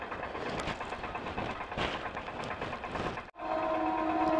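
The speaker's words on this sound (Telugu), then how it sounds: "మరి ఎన్ని ట్రైన్లు వస్తాయి ఇప్పుడు చూద్దాం" A train rolls past a railway crossing, a continuous rumbling clatter of wagons with a brief gap near the end before a whistle-like tone rises; nearby and moderately loud, no talk.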